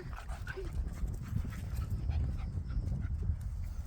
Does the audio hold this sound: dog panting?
yes